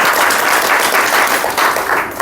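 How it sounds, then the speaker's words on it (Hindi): Dense, steady applause from a seated audience at a Brahma Kumaris spiritual course session in Dinod, Bhiwani, filling the room with continuous clapping that dips briefly near the middle before resuming. "ताली बजा"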